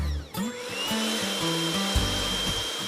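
Electric hand mixer whisking four separated egg whites for a hazelnut meringue, a steady whirring motor hum with stepped pitch shifts as the speed changes, running close and continuous without talk.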